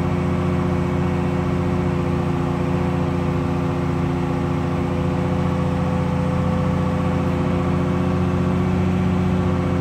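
A freshly installed 4.7 stroker engine idles after its first start, holding a steady, even drone close by with no change in rhythm and no voices.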